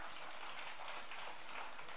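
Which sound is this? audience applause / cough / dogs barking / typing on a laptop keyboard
audience applause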